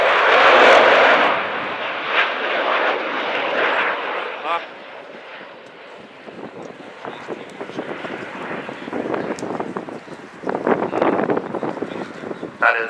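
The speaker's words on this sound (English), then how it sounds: "And that was the sound of 4 Rolls-Royce Bristol Olympus 202 engines" Avro Vulcan bomber with four Rolls-Royce Bristol Olympus 202 engines on an airshow flypast, a loud jet roar that fades and swells amid wind buffeting and crowd noise, with voices talking over it.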